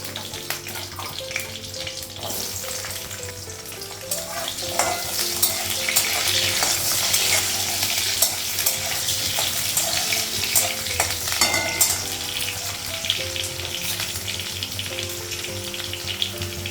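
Dal goes into hot oil tempered with panch phoron, green chilli and dried chilli, producing a continuous loud frying sizzle with stirring and clattering of the utensil in the pan throughout.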